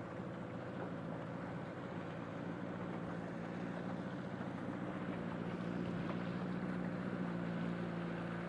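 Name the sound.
boat motor running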